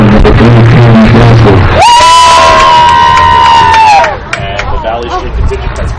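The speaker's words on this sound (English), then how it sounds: "Valley Street contingent has made their way to Rockville Center, applauding their native daughter Dasher coming back into play here." Spectators at a women's college soccer match in Rockville Centre cheer loudly over crowd babble, with a long sustained whistle-like tone and whoops rising briefly before dropping back to chatter.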